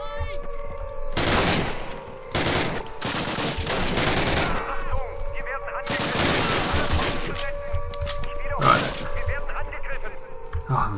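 American gunfire in Call of Duty: rapid bursts of automatic fire repeat across the stretch, loud and dense, with gaps between volleys. A voice talks under them.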